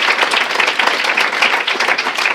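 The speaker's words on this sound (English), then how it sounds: "Can we just give them a round of applause too, because this is an amazing event." Dense, steady applause from an audience at a human relations awards ceremony, many hands clapping together at close range without a break.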